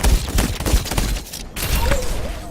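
Overwatch gunfire from the D.Va hero, a rapid continuous barrage of shots with a short gap midway, loud and close.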